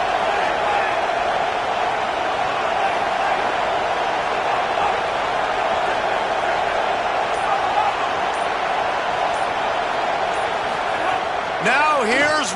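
Football stadium crowd roaring loudly during an Alabama vs Oklahoma game, a dense continuous wall of noise that swells slightly near the end, with a commentator talking over it.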